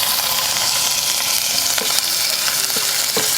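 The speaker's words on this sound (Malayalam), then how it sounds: "നമുക്ക് നന്നായിട്ടൊന്ന് മൂപ്പിച്ചെടുക്കാം" Crushed ginger, garlic, dried red chillies and shallots fry vigorously in hot oil. A loud, dense, continuous sizzle fills the whole stretch, with a few faint scraping stirs and no talking.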